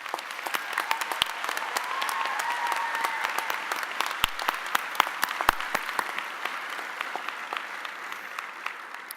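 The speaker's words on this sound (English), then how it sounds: "Please join me in an applause for our faculty's contributions." Sustained applause from a commencement audience at a university school of public health ceremony for the faculty, steady dense clapping with scattered sharp individual claps and no talking.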